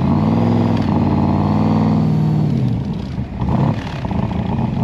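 A Cobra sports car's engine revs and accelerates from the driver's seat, a loud throaty drone rising in pitch, then dropping as gears shift and climbing again close by.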